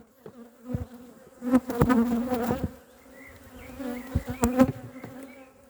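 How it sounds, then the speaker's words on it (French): Honeybees hum around an apiary, several close passes swelling loud and receding in uneven bursts over a steady background drone. "Les abeilles sont pas commodes, hein."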